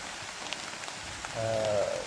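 Steady rain falls on a surface as a constant close hiss of drops, growing slightly heavier toward the end, with no voices.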